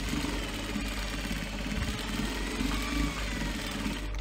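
Sewing machine stitching back and forth across the ends of a fabric clutch purse, a steady low mechanical whir and hum running continuously and close, with no talk.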